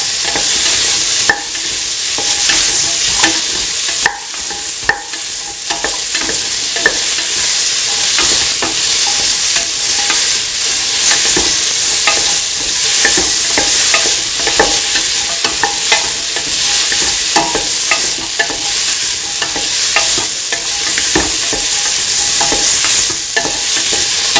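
Winter melon pieces sauté with tomatoes in a hot pan, producing a loud, constant sizzle punctuated by frequent scraping stirs of a spatula, close and unbroken throughout, with no voices.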